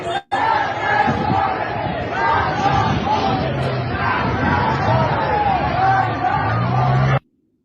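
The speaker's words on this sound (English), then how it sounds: "crowds are chanting "Death to Khomeini" in front of a bombed regime building" A large crowd chants loudly and continuously in front of a bombed building in Tehran, voices massed together in rhythmic shouts before stopping abruptly.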